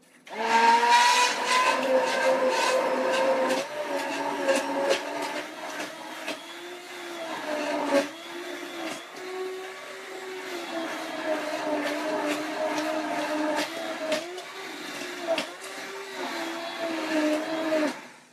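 A stick blender whirs loudly blending roasted butternut squash soup, its motor pitch rising and dipping as it churns, running almost continuously with brief dips.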